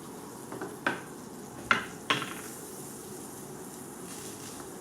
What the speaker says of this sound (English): अब इस hot pan पे हम डालेंगे about 1 spoon of butter,